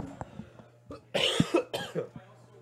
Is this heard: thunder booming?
no